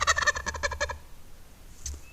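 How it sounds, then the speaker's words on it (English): A wild turkey tom gobbles once in a loud, rapid rattling burst on a ridge-top field at midday, followed by quiet outdoor ambience and a faint distant call. "a single tom working that plot during the midday and gobbling"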